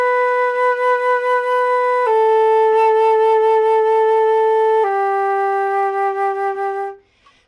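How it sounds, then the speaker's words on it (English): A flute sounds three long sustained notes in a row, each stepping lower, with the vibrato pausing at every note change; the tone is close, clear and steady before cutting off abruptly at the end. "I'm just going to play 3 notes, and I'm going to stop the vibrato in between each note."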